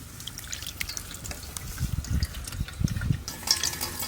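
Mustard and green chili paste mixed in water being strained through a sieve, heard as irregular trickling, splashing and dripping liquid, with scattered small clinks and bursts close by.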